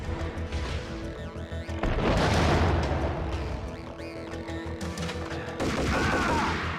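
Grenade blasts and heavy gunfire from the Max Payne video game: a chaotic, loud, continuous barrage with repeated booming swells, the biggest around the middle and end.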